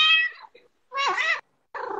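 A house cat meowing close by during a livestream, three distinct drawn-out meows with short pauses between them, loud and clear with no talking.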